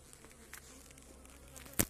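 Honey bees hum faintly and steadily around a hive at an apiary on a hot evening, a low continuous drone with one brief louder buzz as a bee passes close.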